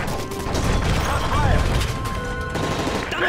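Rapid bursts of gunfire crackle through a dense, noisy mix of explosions and action sounds, continuous and loud throughout, in the video game Call of Duty: Modern Warfare 3.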